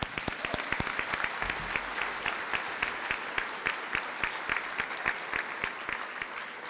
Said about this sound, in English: they deserve their own round of applause too